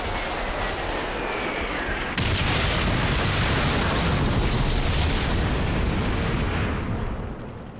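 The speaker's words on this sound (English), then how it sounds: "We don't want to be here when those shells hit." Artillery shells exploding in the World War II shooter game Call of Duty: World at War, a loud sustained roar of blasts and debris that swells sharply after a couple of seconds and fades slightly at the end.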